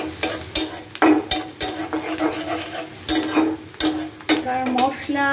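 Spices frying in hot oil, a close crackling sizzle broken by loud metal spoon strikes and scrapes against the pan at irregular intervals, with no voices.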